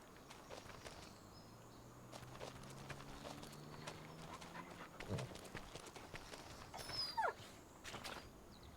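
Quiet, rapid panting from the farm dog Shadow in Farming Simulator 25 runs throughout, mixed with soft footsteps and faint clopping sounds, with no voices.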